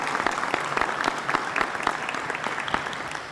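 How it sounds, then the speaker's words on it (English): A town hall audience of New York City educators claps steadily for the moderators, a dense, even round of applause that holds at the same level the whole time with no voices over it. "Let's give them a big round of applause and thank them."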